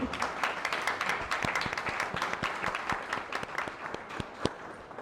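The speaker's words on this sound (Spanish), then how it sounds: "a la distancia les pido un fuerte aplauso" A crowd applauds steadily, many hands clapping in a dense, continuous patter with a few sharper claps standing out, moderately close.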